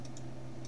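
Keys on a computer keyboard are tapped a few times in quick succession to delete a typo in CSS code, with faint close clicks over a low steady hum.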